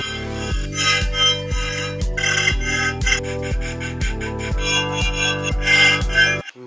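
Metal is filed on a titanium batarang build with a quick, even series of gritty rasping strokes, about two per second, before stopping abruptly. Close, loud and alone, with no speech.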